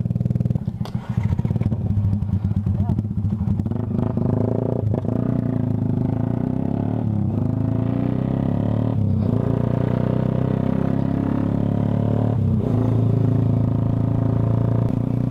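A motorcycle on the Duhat dirt trail with JVT suspension runs its engine in a loud, steady rumble close by, with clattering knocks and bumps as it moves over rough ground.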